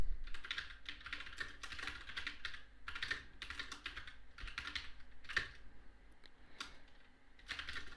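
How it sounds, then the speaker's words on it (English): Computer keyboard typing close by, bursts of quick clicking keystrokes with brief pauses between, steady and alone while someone enters a translation prompt. "When I type"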